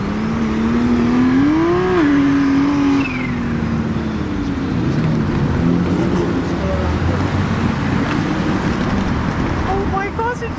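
BMW cars take over Johannesburg streets, engines droning steadily and close while a rising whine swells and falls, with people talking over the loud continuous roar of traffic.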